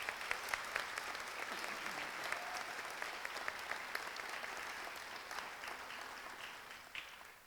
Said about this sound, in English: let's give our Bowie voices under the direction of Jermaine LeBeau one more round of applause